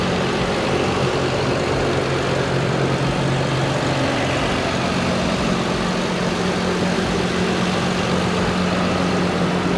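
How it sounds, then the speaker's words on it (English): A car engine runs steadily at idle, a continuous low rumbling drone close by with no voices. "so we got that engine up and running"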